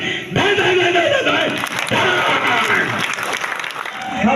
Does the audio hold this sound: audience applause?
yes